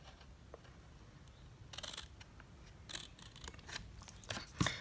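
Scissors snip through card along a score line while making a pentagon box in papercraft, a few short crisp cuts that grow louder toward the end, close and quiet with no talk.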